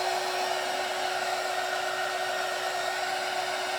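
A hair dryer blows steadily and loudly at close range, drying wooden beads for a strawberry garland, with a constant whirring hiss that does not change.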